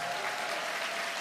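A stage-event audience claps steadily, a dense, even wash of applause from a crowd that holds at one level throughout.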